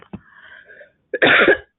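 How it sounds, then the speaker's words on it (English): A short throat-clearing rasp, close and fairly loud, preceded by a brief vocal sound and quiet hum. "Let me clear my throat."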